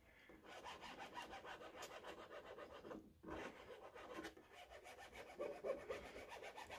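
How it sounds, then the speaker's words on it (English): Blue masking tape is rubbed firmly onto a model aircraft rudder and fin, a steady close-up scraping and rubbing that runs almost without pause, with one brief break partway through. "we have to really burnish it down, because we now want the blue mask to stick"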